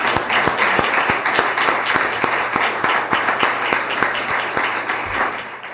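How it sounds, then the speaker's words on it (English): Sustained audience applause at a candidate forum, a dense, steady wash of many people clapping, fairly loud and close, with regular sharper claps standing out throughout. "let's keep the applause to you guys then"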